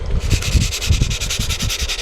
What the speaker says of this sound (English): we're going to take our sanding stick, and let's take this one, and we're just going to sand the inside